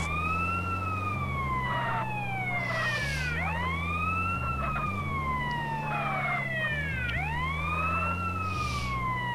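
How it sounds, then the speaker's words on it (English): A loud electronic ambulance siren from GTA San Andreas, stuck on, wails in repeating rising and falling sweeps, with a steady low engine-like drone and stepped tones underneath. "Sorry, the siren was broken there."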